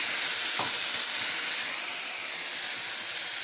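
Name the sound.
sautéing spices and tomato in oil for fish curry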